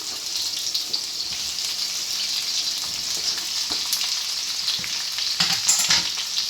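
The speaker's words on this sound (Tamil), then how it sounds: "இந்த வெங்காயம் கொஞ்சம் டிரான்ஸ்பரண்டாக மாறணும், அந்தளவுக்கு நல்லா வதக்கிக்கோங்க" Onions sauté in a hot pan for a Madurai-style thanni chutney, giving a steady, close sizzle with occasional crackles and stirring scrapes throughout.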